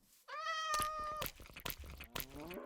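Minecraft cat meowing while being tamed with fish in the video game, several short, close meows in quick succession, clear and alone with no talk over them.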